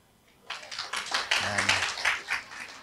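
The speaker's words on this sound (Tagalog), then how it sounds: "Pumalakpak nga yung mga kabataan." A crowd of young people breaks into applause at a church gathering, dense close clapping that starts abruptly and holds steady for a couple of seconds, with a brief voice under it.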